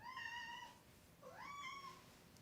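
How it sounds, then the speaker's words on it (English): A cat meows twice, first a long steady call and then a rising, drawn-out meow after a short pause. Both are clear but fairly quiet, indoors with no talking. "My cats are needy."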